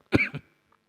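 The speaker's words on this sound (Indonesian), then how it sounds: "mohon maaf nih, sedang batuk" A single close cough in a quiet room: one sharp burst with a shorter second push right after, then silence.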